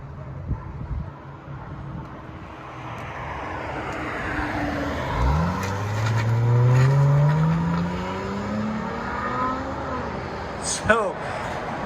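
Chrysler 300S V6 with its resonator deleted, driving past with a rising exhaust drone as it accelerates, loudest in the middle, then fading with a short sharp burst near the end; a voice talks over it.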